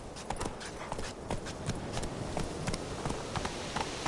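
A horse gallops in The Witcher 3: Wild Hunt, its hooves drumming in a quick, steady rhythm of distinct thuds over a faint background hum, close and moderately quiet.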